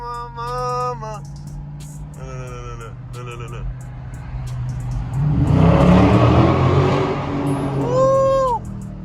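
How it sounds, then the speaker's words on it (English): A Dodge Challenger Scat Pack accelerates through a small tunnel, its engine note swelling loud and close midway through, with people talking and whooping over the rumble before and after. "Go through them little tunnels, just hit gas a little bit."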